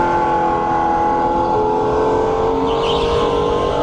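A go-kart engine held at full throttle around a race track during league qualifying, a steady, loud, continuous drone with a slight pitch shift near the end and no talk.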